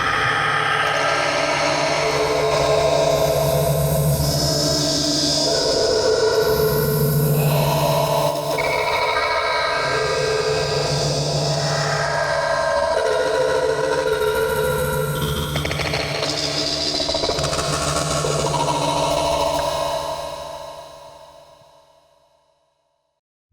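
Unfiltered Audio Silo granular reverb presets wash over a synth tone, a dense shimmering texture with a steady level that runs unbroken for about twenty seconds and then fades away. No one speaks.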